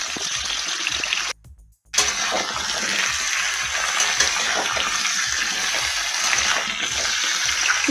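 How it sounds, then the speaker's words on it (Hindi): Pointed gourd and potato pieces sizzle loudly in hot oil for a dhaba-style sabzi, a steady close frying hiss that drops out briefly near the start, then carries on continuously. "तेल गर्म हो चुका है दोस्तों, तो डाल लेते हैं परवल और आलू।"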